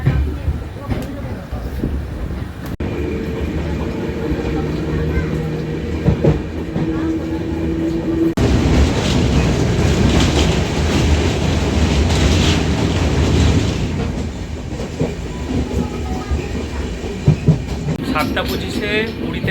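The Puri–Sealdah Duronto Express (22202) runs along with a loud, steady rumble and rhythmic clickety-clack of wheels on rail, heard close from inside the train with wind buffeting.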